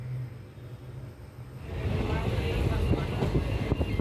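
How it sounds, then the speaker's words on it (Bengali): The Sealdah-Jangipur Express runs past Azimganj Town station. A quiet hum swells into rhythmic clickety-clack of wheels over rail joints, growing louder and steadier as the train moves. "ট্রেন হচ্ছে আজিমগঞ্জ টাউন স্টেশন ক্রস করে এগিয়ে চলছে"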